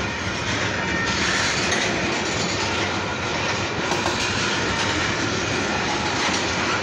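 A long freight train of tank cars rolls steadily past close by, a dense continuous rumble and roar with rhythmic clickety-clack of wheels on rail joints, loud and unbroken throughout.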